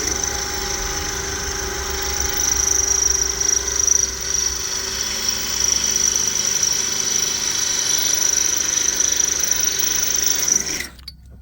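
A long drill bit whining steadily while drilling out rivets on an upper panel, numbered 3226, a sustained high-pitched motor tone with grinding texture running nearly eleven seconds before cutting off abruptly.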